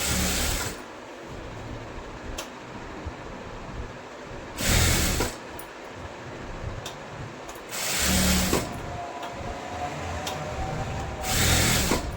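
A sewing machine stitches a blouse with thread piping along the edge, running in close mechanical bursts of several seconds separated by short pauses.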